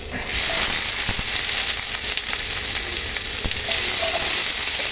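Onion with cumin, ginger and garlic sizzles loudly in hot oil, a dense steady frying hiss after the ingredients drop into the pan at the start, with occasional stirring clicks.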